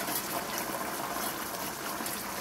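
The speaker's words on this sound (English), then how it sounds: "It's really bubbling now." Hot roast juices bubbling in a pan while a whisk stirs them make a steady, close hiss and gurgle of liquid that stays even throughout, with no talking.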